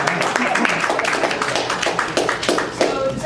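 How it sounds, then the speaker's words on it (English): Applause from a live podcast audience, a short burst of hand clapping heard together with a voice speaking. "Can we get some applause?"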